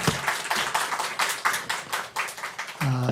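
A church congregation claps together in thanks to God, a steady run of close, sharp handclaps with rhythmic bursts, ending as a voice begins to speak.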